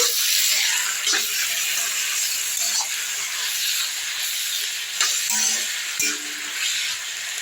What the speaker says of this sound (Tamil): சோறு நல்லா கொதிக்குது